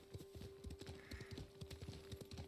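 Quick, rhythmic hoof clip-clops from a horse in a video game, with a brief whinny partway through. The sound is faint and runs over about two and a half seconds.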